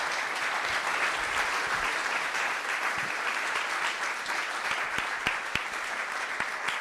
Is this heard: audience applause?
yes